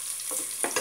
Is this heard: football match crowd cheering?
no